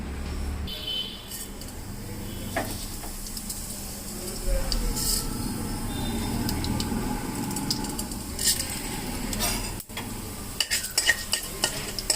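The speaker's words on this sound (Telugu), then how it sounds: "ఇప్పుడు ఇదే బాండీలో తాలింపు పెట్టుకుందాం" Tempering spices such as dry red chillies and curry leaves frying in a pan, with stirring scrapes, a steady sizzle and clinks of utensils, close by with occasional background sounds.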